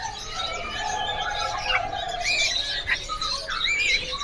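Bali mynas, a breeding pair at a bird seller's, give repeated whistled calls and chirps close by, with other birds' twittering mixed in over a steady background hum.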